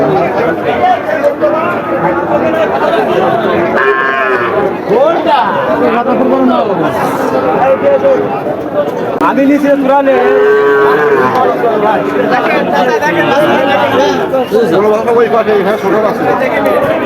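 Cattle, including small bulls and heifer calves, moo repeatedly at a busy cattle market, loud drawn-out calls rising over constant crowd chatter while people talk nearby.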